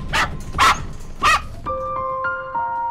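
A frightened white dog during a rescue gives three sharp, close barks, then drops into a thin, drawn-out whimpering cry that wavers and continues without any voices.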